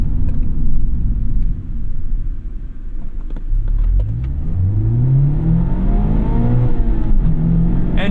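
A stock Mazda MX-5 Miata ND3 engine pulls hard through the gears up to 7,500 RPM, its loud, continuous note sweeping steadily upward in pitch over road rumble, with no talk.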